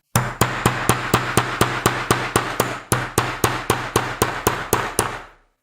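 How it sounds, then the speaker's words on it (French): A hammer taps a spatula wedged into the seam of a three-button diamond-style BMW key fob, about twenty sharp, evenly spaced knocks close up with one brief pause partway through. "Et ensuite, vous prenez un marteau"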